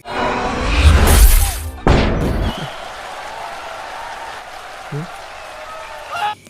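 In a basketball film scene, a glass backboard shatters as a player's face slams into it mid-dunk: a loud crash amid crowd roar and cheering, then quieter thuds, with a voice speaking over it.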